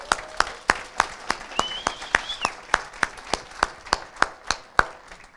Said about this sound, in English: Can I get a round of applause for this amazing facility?